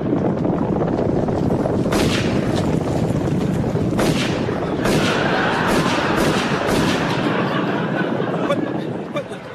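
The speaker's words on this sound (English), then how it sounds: "What's she doing blazing away with a Kalashnikov AK-47?" Rapid bursts of Kalashnikov AK-47 rifle fire crack out repeatedly, loud and close, in a comedy scene at a race start, with voices mixed in under the shots.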